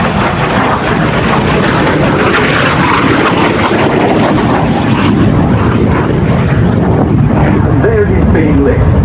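A MiG-17 jet fighter flies at the Duxford Summer Airshow with afterburner lit, a loud, continuous roar that fills the clip with steady engine noise from start to finish.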